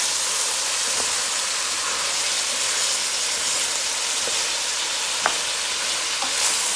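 Stirring and frying sound from ingredients in a pot for bora or bodie with dried anchovy: a steady sizzling hiss with a few faint clicks of a spoon against the pot, close and without talk.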